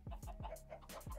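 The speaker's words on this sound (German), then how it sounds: "Hühner. Machen wir nochmal eine kleine Huhnvermehrung hier." Chickens in the video game Minecraft clucking in a few short, repeated calls, soft and close, with no talk over them.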